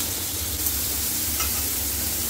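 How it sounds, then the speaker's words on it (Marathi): Rava-coated bombil fish fry in a little oil on an iron bhakri griddle. A dense, even sizzle runs unbroken and close, with a faint scrape partway through. "आता मग थोडेसे बोंबील फ्राय करूया।"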